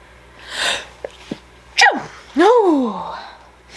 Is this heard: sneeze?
yes